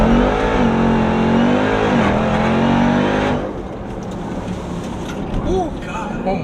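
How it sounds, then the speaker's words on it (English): A Jeep Trackhawk launches at full throttle just after coming off a dyno, its engine and supercharger roaring loud and close for about three seconds before the sound drops away, followed by excited voices. "We're gonna give it a little test launch after we just took it off the dyno."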